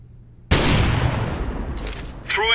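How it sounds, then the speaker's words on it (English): A CS:GO flashbang goes off after near silence, a sudden loud burst that decays into a ringing tail, followed by a short rising tone near the end. "I'm throwing a flashbang."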